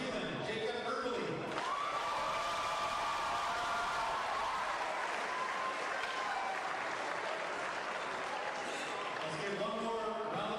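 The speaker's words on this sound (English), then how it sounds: "Let's give one more round of applause for the District 6 All-Tournament team." A crowd at a District 6 basketball tournament awards ceremony gives steady, loud, sustained applause with some cheering, continuing without a break for about ten seconds.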